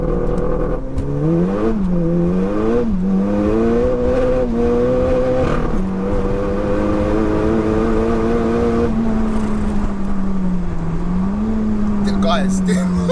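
A 607bhp SEAT Leon Cupra with anti-lag pulls hard in third gear, its loud engine note climbing steadily over about ten seconds with a flat-foot shift, recorded from inside the car.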